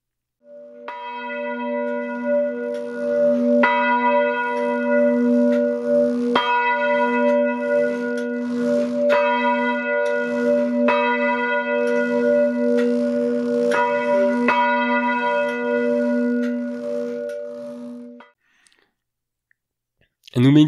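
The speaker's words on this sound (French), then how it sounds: "La troisième cloche est visible depuis l'extérieur dans son clocher du XVIIe siècle" A 440 kg church bell in a 17th-century bell tower rings loudly in a repeated, overlapping pattern of strikes over a sustained tone, then stops abruptly near the end.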